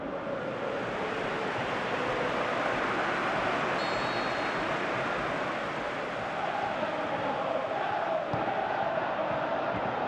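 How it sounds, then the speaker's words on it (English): Stadium crowd noise from a soccer video game match, a steady, dense roar of many voices filling the whole stretch, swelling slightly in places with no clear single shouts standing out. "you can feel and hear how the crowd are reacting to all of this"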